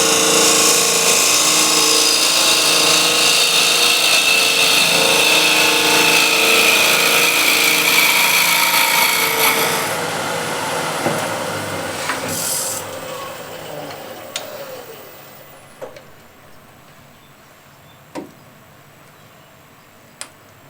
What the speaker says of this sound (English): using just the very tip of the square end scraper, going straight in